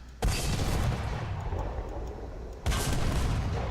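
A double cannon fires twice in a ship-building video game. Each shot starts with a sharp, loud boom that rolls into a long, sustained roar, and the two shots come about two and a half seconds apart.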